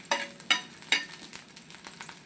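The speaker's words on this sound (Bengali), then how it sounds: "সরিষার তেল দিয়ে দিয়েছি। দিয়ে আমি এটাকে এরকম করে ভালো করে একটু ভেজে নেব।" Shrimp sizzling and crackling in hot mustard oil, with sharp spattering bursts and stirring scrapes over a steady frying hiss, close and fairly loud.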